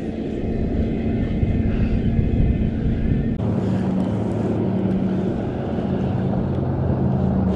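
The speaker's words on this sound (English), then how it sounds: "Here comes the wind." Strong wind buffets a fishing boat out on open water while anglers cast swimbaits for striped bass, making a loud, steady roar with no speech.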